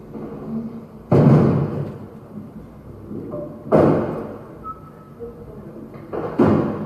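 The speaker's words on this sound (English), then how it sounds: "my colleague will close up the van doors." Van doors closed one after another, three heavy thuds spaced a couple of seconds apart, fairly close, with faint room noise between them.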